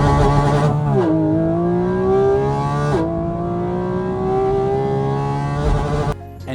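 A Porsche GT4RS engine pulls hard with loud induction roar inside the cabin, rising in pitch through two quick paddle upshifts before a final lift, close and dominant with no talking.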